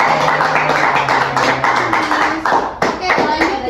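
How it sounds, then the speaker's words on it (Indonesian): Classroom students clap their hands together in a dense burst of applause that lasts several seconds, with a few sharper individual claps near the end and a voice faintly underneath. "Give applause dulu, tepuk tangan dulu."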